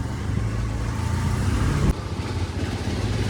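A vehicle drives slowly along a crowded main market street, giving a steady engine hum and road rumble throughout, with a brief bump partway through and no voices.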